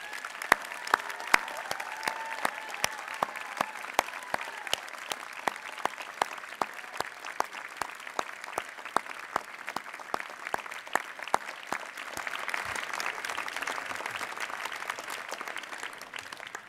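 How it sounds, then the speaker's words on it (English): An audience at a university undergraduate honors convocation applauds steadily, a dense crowd of clapping hands with sharp individual claps standing out, sustained for many seconds in a large hall. "please join me in a round of applause for your families."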